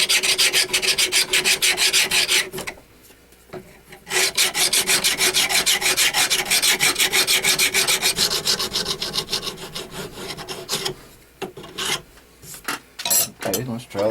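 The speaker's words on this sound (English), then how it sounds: "we'll start getting this all sanded back and shiny it up" A full tang knife blade is sanded and filed in long, steady, close raspy strokes with brief pauses between runs.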